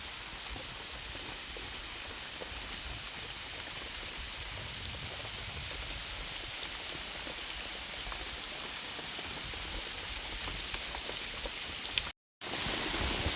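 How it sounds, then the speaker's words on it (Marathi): Heavy rain pours steadily over a groundnut field during harvest, a dense unbroken hiss with scattered drop patter, briefly cutting out near the end before resuming, with no talk. "आता चांगलाच पाऊस यायला लागलाय."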